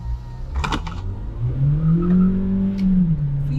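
A 2024 Volkswagen Taigun GT with the 1.5 TSI engine and DSG gearbox accelerating, heard from inside as a close engine drone that rises in pitch, holds, then eases off, with a few brief clicks early on.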